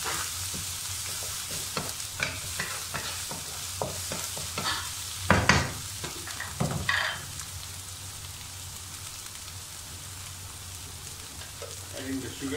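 Butter sizzles and crackles in a pan while nasi lemak is cooked, with a steady frying hiss and several sharp stirring scrapes and knocks, some louder bursts near the middle.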